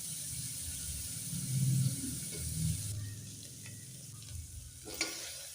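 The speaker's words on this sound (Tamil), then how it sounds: "இது எல்லாமே நல்லா செவந்து வர நல்லா வதக்கிக்கலாம்." Chopped green chilies and garlic sizzle and are stirred in a hot pan while making tomato rice, a steady frying hiss with occasional scraping and clinks of the spoon, close and alone.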